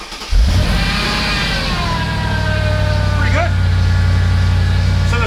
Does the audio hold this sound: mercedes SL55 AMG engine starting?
yes